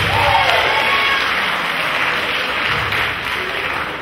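A school symposium audience claps together in a hall, a dense, steady wash of applause that holds at an even level for about four seconds.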